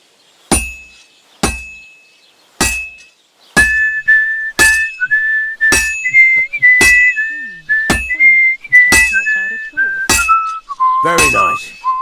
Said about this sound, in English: You've got to hammer the workpiece evenly.